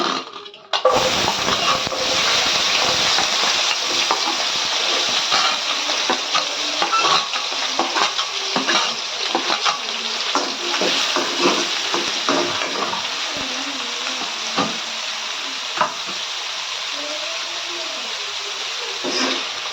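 Sliced onions and green chillies fry in a pan for a curry, giving a steady, close hiss of sizzling oil broken by the scrape and clatter of stirring.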